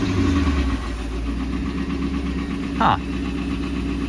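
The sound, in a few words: salvage Mustang engine idling low, about to stall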